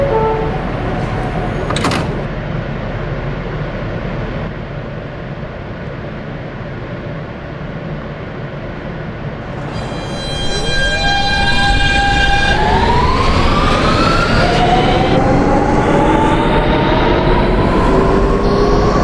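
An R160 New York subway N train running toward Coney Island, with a loud steady rumble of rails and wheels, a brief squeal, then rising tonal motor whine as it accelerates, close and continuous.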